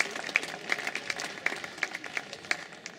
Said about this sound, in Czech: Zatleskejte Ondrovi Kozákovi, on je rád, když jsem mu tleskal